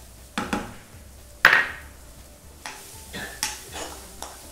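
Chopped onion sautéed in a pan, with close, sharp strokes of a spoon against metal and one loud clank, all over a soft continuous sizzle.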